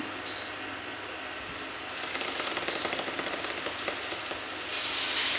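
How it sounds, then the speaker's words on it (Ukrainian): Steady crackling sizzle of cherry, poppy seed and cheese crepe rolls frying in hot oil in a pan, continuous and close, with a couple of faint high beeps early on. "їх треба обжарити в маслі. Беремо масло, сковорідку, звичайно, розігріваємо"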